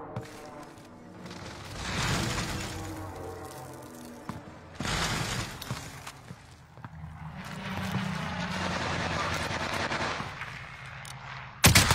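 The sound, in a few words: airstrike and gunfire in a video game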